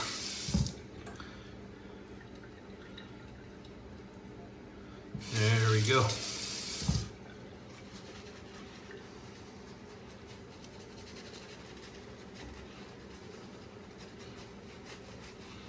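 A burst of running water from a tap for about two seconds, bracketed by short clunks, then a quiet room with a brief spoken phrase.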